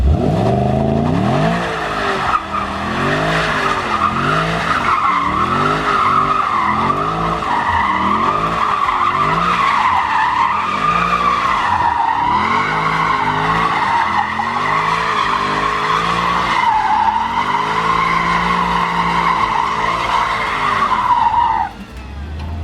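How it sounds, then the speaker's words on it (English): Mercedes in drift mode sliding with tires skidding, a loud, continuous close squeal wavering up and down as the engine revs and surges beneath it, running almost unbroken before cutting off at the end. "This car is so easy to drift when in drift mode."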